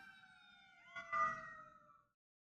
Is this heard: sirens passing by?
yes